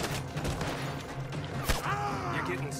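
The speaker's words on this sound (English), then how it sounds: "I'm taking heavy fire is what I'm taking" Heavy gunfire in Red Dead Redemption 2, a scattered volley of sharp shots at varying distances, one loud crack standing out near the middle, over a steady background hum.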